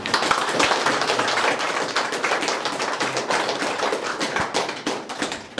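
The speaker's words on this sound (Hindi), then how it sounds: "मैं सभी भाइयों से आग्रह करता हूँ कि सिस्टरों के लिए हम सभी जोरदार तालियां दें" A gathering on a clergy pilgrimage applauds the sisters, a dense, steady patter of many hands clapping together for several seconds, fairly close and continuous.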